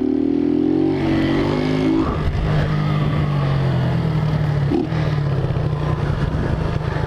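A motorcycle engine revs hard during wheelie practice, its pitch rising and falling in loud close bursts, with the bike struggling for power to lift the front.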